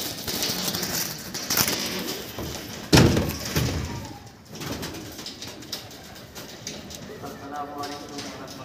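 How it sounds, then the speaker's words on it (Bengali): Restless Madras pigeons shuffle and coo in a loft, with a sharp flutter or thump partway through, while someone talks over the birds throughout. "পায়রা এত ছটফট করছে।"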